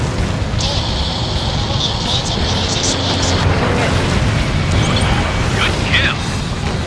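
Missile explosion striking a building in Ace Combat Infinity, a heavy sustained boom under constant jet roar, with radio chatter and cockpit tones layered on top.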